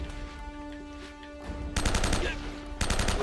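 Bursts of gunfire in the action video game Uncharted, with rapid automatic shots cutting in loudly twice over a steady background hum and faint game sounds.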